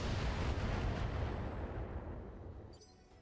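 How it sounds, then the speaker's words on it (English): A salvo of missiles launched in a mech video game makes a loud, dense roaring burst of rumbling blasts that gradually trails off over about three seconds. "fire a salvo of missiles off"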